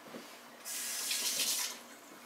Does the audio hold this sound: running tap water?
yes